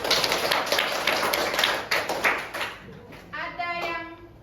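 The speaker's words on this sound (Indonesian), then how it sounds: "Yuk, tepuk tangan untuk kita semua." A classroom of students claps hands together at the start of a lesson, a burst of dense, quick claps that thins into a few scattered ones, with a voice speaking briefly near the end.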